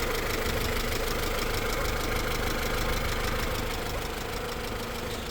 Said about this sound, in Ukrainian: Давайте послухаємо роботу двигуна.